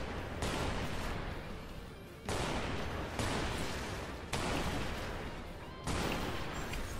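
Security guards returning fire in Strike Vector EX, several long sustained bursts of heavy gunfire and blasts separated by brief lulls, loud and dense throughout.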